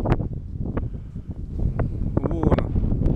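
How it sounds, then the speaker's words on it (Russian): Wind gusting outdoors on a breezy day, a steady rough rumble at the microphone under scattered bursts of nearby activity, lasting the whole moment. "Сегодня ветер"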